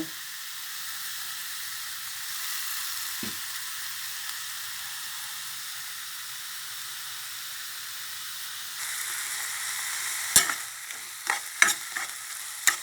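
Minced pork stir-frying in a pan with dried chili and seasonings, without oil, giving a steady close sizzle and hiss, then a few sharp spatula scrapes and clacks toward the end.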